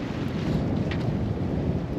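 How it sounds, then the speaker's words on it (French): Strong headwind on a sailboat at sea, a steady low buffeting roar of wind against the microphone with the hiss of water underneath, continuous and close, no voices. "vent complètement de face"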